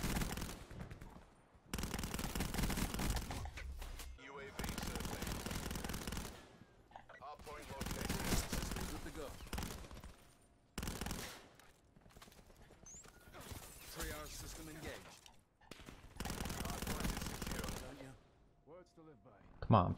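Repeated heavy bursts of automatic weapon fire in the Black Ops 4 shooter video game, several loud sustained volleys separated by short gaps, with a player's voice talking in between.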